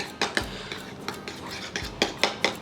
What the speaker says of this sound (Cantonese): 咁我哋將佢攪勻佢先啦